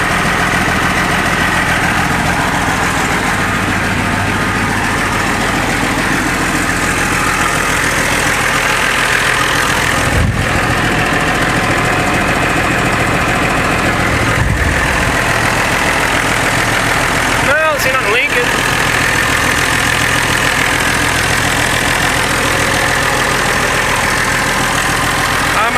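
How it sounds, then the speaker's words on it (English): A John Deere 4850 tractor idles with a steady loud engine drone while its hydraulic pump runs and oil flows through it, a continuous mechanical hum with a few brief clunks. Someone talks over it. "I hear oil going in the pump, the air slugs or whatever."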